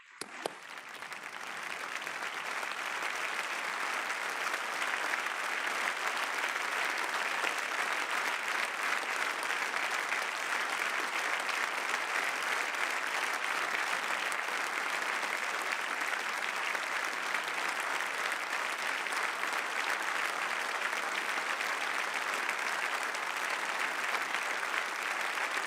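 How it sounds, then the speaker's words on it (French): French parliament rising in a standing ovation for the Ukrainian people and President Zelensky: dense, sustained applause from a large chamber that swells within the first seconds and holds steady throughout. "que nous nous levions et applaudissions afin de rendre hommage au courage du peuple ukrainien"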